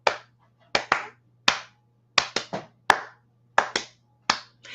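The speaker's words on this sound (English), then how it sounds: "Clap along now." Sharp, separate hand claps ring out in an uneven rhythm as a few people clap along to a song on a live daytime show, close and crisp with silence between the beats.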